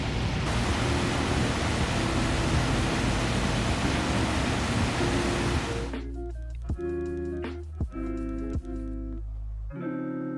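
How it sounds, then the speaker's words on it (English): An Arizona waterfall roars as dense, loud, steady rushing water for about six seconds, then cuts away to quieter sounds with soft tonal notes. "I forgot how calming the sound of a waterfall is."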